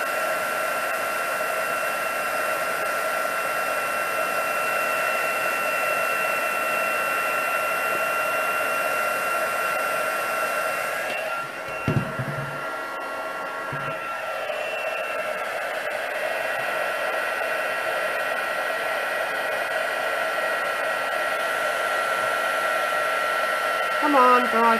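An embossing heat tool blows a loud, steady whooshing hum almost without pause while drying embossing paste on a stencil card, with a brief dip in the middle.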